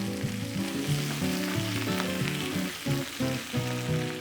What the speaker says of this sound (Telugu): ఆయిల్లో మసాలాలు బాగా ఫ్రై అవ్వగానే